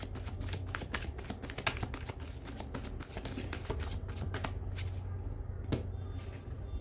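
A deck of tarot cards being shuffled by hand, a steady run of close, crisp riffling and flicking that continues for several seconds without talk.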